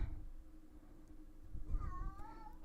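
A pet cat meows softly in a quiet indoor room, two short rising-and-falling calls near the end, faint and close, with low background hum and no talking.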